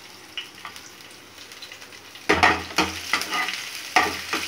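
Ginger and garlic paste with green chilli stirred as it fries in a pan for upma, giving a soft sizzle under repeated louder scraping strokes of a spoon, close up, with no talking.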